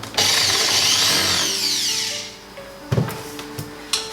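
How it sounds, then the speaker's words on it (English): A power drill fitted with a 1/4 inch bit bores a hole in a drain pipe during a reverse osmosis system installation. It whirs loudly and steadily for about two seconds, then stops, followed by a few light knocks and handling sounds. "using a drill with a 1/4 inch drill bit"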